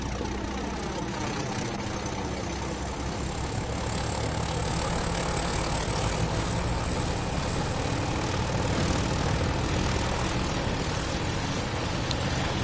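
Pair of BR Class 31 diesel locomotives working at full power in Train Sim World 5, a steady loud low engine roar with droning harmonics sustained throughout, no talk.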